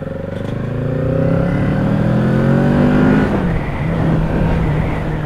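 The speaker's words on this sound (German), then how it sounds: "Der Auspuff hört sich gar nicht schlecht an." Kawasaki Z650 two-cylinder 649 cc motorcycle accelerating, its exhaust rising in pitch through a rev then dropping back to a lower drone, close and loud with no talk.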